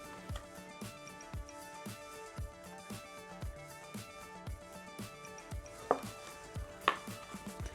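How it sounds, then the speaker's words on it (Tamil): Orange being squeezed and twisted in a homemade juicer made from plastic bottles, giving a run of regular soft knocks and scrapes with a couple of sharper squeaks near the end. "இனி நம்ம அழகாக பிழிஞ்சு எடுத்துக்க போகிறோம்."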